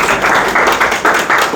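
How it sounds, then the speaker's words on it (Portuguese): A crowd claps loudly and steadily, a dense wash of hand claps in rolling waves with no voices over it. "Uma salva de palmas."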